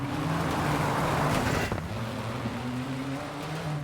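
Alpine A110 Berlinette historic rally car engine in WRC 9 on the Arganil stage, a steady near engine drone that shifts pitch briefly as it changes gear, with no talk.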